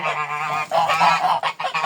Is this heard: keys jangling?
no